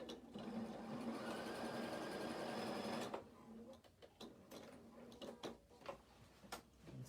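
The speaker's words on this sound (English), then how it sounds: "I'm just going to stitch that in to hold it, and it's just stay stitching" A sewing machine stay stitches a denim skirt pocket with a fast steady whir for about three seconds, then stops, leaving scattered clicks and handling taps.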